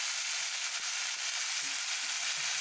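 Ginger, garlic and green chili frying in a pan, a loud, dense, continuous hiss of hot oil with faint stirring knocks beneath, no voices.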